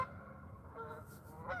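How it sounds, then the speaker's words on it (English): A flock of geese honk repeatedly as they take off together and fly, the calls overlapping in a quiet outdoor setting at moderate distance. "They all took off together. Now they're flying this way. Silly geese."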